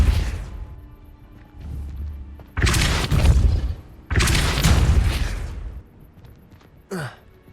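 A Depulso spell blast in Hogwarts Legacy comes as two loud, roaring bursts a second apart, each a broad whooshing impact that fades, followed by a brief sharp sweep.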